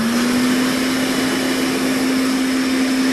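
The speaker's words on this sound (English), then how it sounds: "This is the Space Age Hoover Constellation. Floats on its cushion of Earth." A Space Age Hoover Constellation hovering vacuum cleaner, which floats on an air cushion, runs with a loud, continuous motor drone and a steady whining hum throughout, with no other sounds over it.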